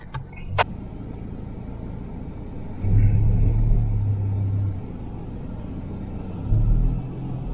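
Off-road pickups in a convoy on a mountain dirt track from Pai to Wiang Haeng rumble past, engine drone rising and falling as vehicles pass close by, with a brief sharp sound at the start.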